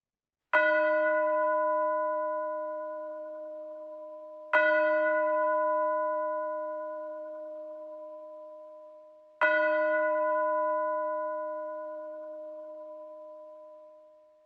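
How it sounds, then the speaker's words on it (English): Meditation bell struck three times at slow, even intervals, each strike ringing out clear and then fading through a long resonant decay in silence. "Letting the sound of the bell guide the attention outward."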